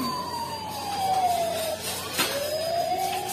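A toy fire truck's electronic siren wails up and down in a steady sweeping tone, fairly loud and close inside a toy store.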